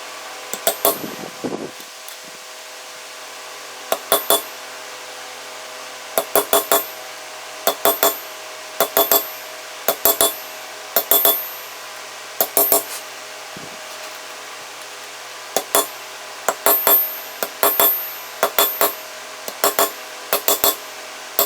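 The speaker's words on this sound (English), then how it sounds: "use a ball peen hammer and a stump of wood, a log, to put indentations in here" Sharp metallic ball peen hammer strikes on a metal leaf resting on a log ring out in quick bursts of two to four blows, pausing between groups, over a steady low fan-like hum with no talking.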